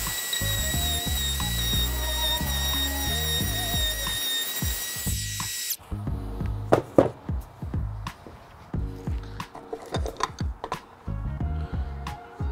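A Milwaukee compact router cutting a hinge mortise in wood: a steady high whine with a constant motor drone for about six seconds, then stops, followed by irregular clicks, knocks and scraping handling noises.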